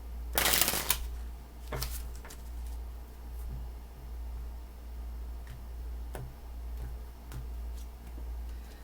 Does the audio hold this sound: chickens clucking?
no